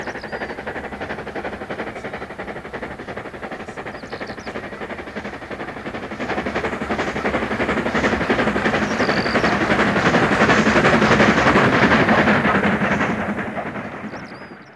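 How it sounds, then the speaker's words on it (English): An LMS Stanier Black Five 4-6-0 steam locomotive climbs past Grayrigg, a steady rumbling roar with rapid rhythmic beats that builds louder as it nears, then eases slightly at the end. "A Black Five has passed Greyrig here, and puts the loops behind her as she heads for higher ground."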